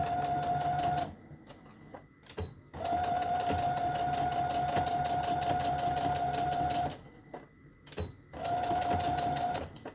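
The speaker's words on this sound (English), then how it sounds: "I'm going to do a little straight stitch it right there" A sewing machine running a straight stitch through fabric, near and steady with a bright whine, in three long runs broken by brief pauses and small clicks, no talk.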